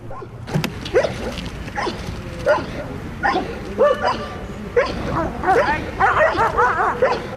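A border guard dog in training barks and yips repeatedly in uneven bursts, loud and close, with an agitated, excited rhythm and no talk over it.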